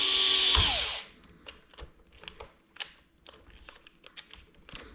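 A DeWalt cordless drill whirs loudly for about a second and stops, followed by scattered clicks and handling taps close by.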